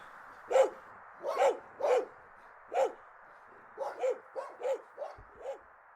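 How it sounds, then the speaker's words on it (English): Dogs bark repeatedly in a stage production, about a dozen distinct barks spaced irregularly over a steady hum, moderately loud and without talk. "The dogs keep barking."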